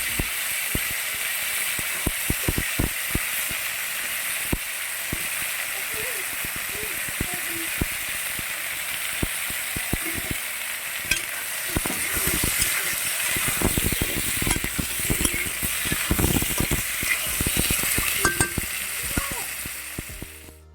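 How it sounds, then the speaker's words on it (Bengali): Cut potatoes hit hot oil and fry with a steady, loud sizzle, broken by sharp clicks and scraping stirs that build toward the end. "এই যে দেখুন কেটে রাখা আলুগুলো দিয়ে দিচ্ছি"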